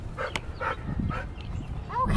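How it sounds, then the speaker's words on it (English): Several short dog barks and yips burst out one after another near the microphone, over a low rumbling background, while the dogs are let out to run around. "the dogs are gonna get to run around for a little bit"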